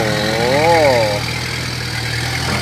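A loaded dump truck grinds up a steep dirt hill. Its loud, near engine drones steadily, and a whining tone swells and falls once early on before settling into a constant low rumble.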